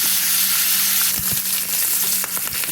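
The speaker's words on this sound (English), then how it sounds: "we're going to start sauteing up my vegetables real soon, layer by layer. Do my onions and peppers first" Cajun sausage, onions and peppers sizzle loudly in a frying pan. The hiss is dense and constant, with a few soft scraping stirs heard close up.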